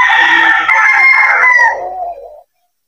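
Super Brown Red gamefowl rooster on a game farm crowing once, a loud, close, drawn-out cock-a-doodle-doo that cuts off into silence.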